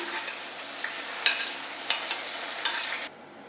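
Chopped onion hitting hot ghee with whole cumin seeds and a pinch of asafoetida, a soft continuous sizzle broken by a few light stirring scrapes, fairly quiet, then the frying drops away near the end.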